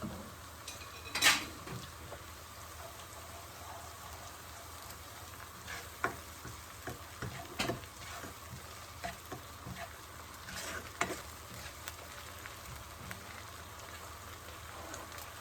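Onions frying in a pan while a Bihar-style dal batti and bharta are prepared, a soft steady sizzle and crackle with occasional louder pops and scrapes, fairly quiet and with no talking.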